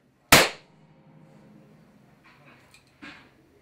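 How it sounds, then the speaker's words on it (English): Stage prop gun fired once, a sharp loud crack close by that decays quickly, followed by faint clicks and handling noises. "We then cock the gun, full cock, take aim, and fire."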